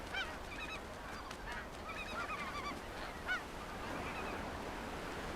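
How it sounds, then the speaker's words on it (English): A flock of emperor geese honks repeatedly along the Alaska Peninsula coast, many overlapping calls at mid distance over a steady wash of surf. No voices are heard. "emperor geese migrate through here by the tens of thousands"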